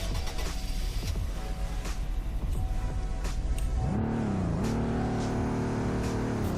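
A car engine in the Roblox game Greenville revs hard, climbing in pitch and bouncing off the rev limiter at about 4,500 rpm, with faint turbo sound over a constant engine drone.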